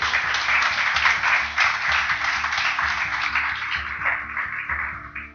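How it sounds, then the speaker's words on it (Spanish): A church congregation applauds steadily and warmly, a dense, continuous wash of clapping at moderate loudness with a low hum underneath and no clear speech. "Y le damos un aplauso, bendito Dios."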